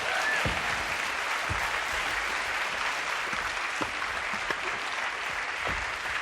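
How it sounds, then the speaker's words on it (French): A studio audience at a French television show claps continuously and evenly, a dense, sustained wash of applause at steady loudness with a few sharper individual claps standing out. "Nous l'applaudissons tout de suite."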